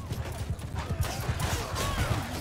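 Horse hooves clatter in mounted combat in Mount & Blade II Bannerlord, with rapid, dense galloping clip-clops under a busy battle din and a faint whinny.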